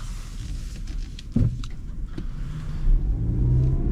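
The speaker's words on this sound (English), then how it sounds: "My only gripe with this CX-5 is the engine noise. I can hear a lot of it, and I'm not even pressing the gas." A 2021 Mazda CX-5 Grand Touring Reserve's engine drones steadily inside the cabin while cruising off the throttle, a low rumble with a brief thump partway through and a slight swell near the end.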